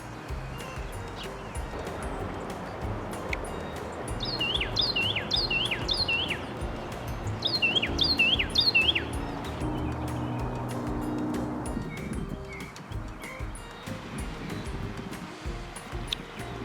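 Birds chirp along the San Antonio River Walk near the Roosevelt Park Loop, clear repeated high-pitched call phrases in two bursts over a steady outdoor background, with fainter calls continuing afterward.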